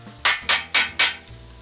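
Garlic and funchoza glass noodles are stirred in a kazan over a campfire, four quick, evenly spaced scraping strokes up close followed by quieter sizzling.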